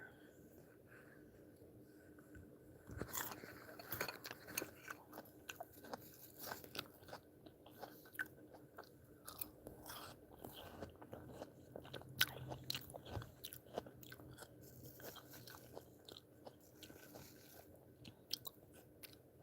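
Crunchy yellow watermelon being bitten and chewed up close, with repeated wet crunches and soft mouth sounds in a quiet room.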